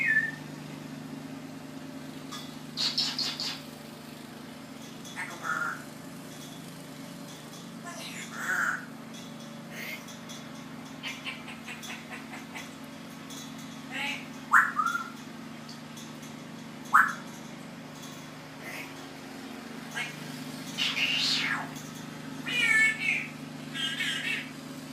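An echo bird imitating sounds, giving scattered short calls and chirps over a steady low hum, with a person's voice speaking to the bird between the calls.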